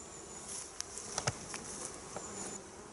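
Honeybees buzz around a hive being readied for winter in October, a steady thin drone with a few louder passes as individual bees fly close.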